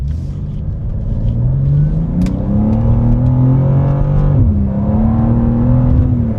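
BMW M2 G87 accelerating hard, its engine note rising steadily through the revs with a brief dip at a gear change before climbing again, loud and close with no talk.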